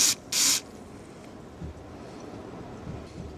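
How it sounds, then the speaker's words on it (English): Two short, loud hissing bursts of carburetor cleaner spray into a Mikuni carburetor on a Suzuki GT550 motorcycle, close up, followed by a low quiet background rumble. "spray carb cleaner right down the end"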